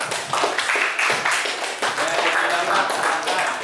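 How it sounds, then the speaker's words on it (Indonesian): A roomful of people in a classroom claps continuously for a few seconds, dense and even, with faint voices mixed in. "Oke, tepuk tangan."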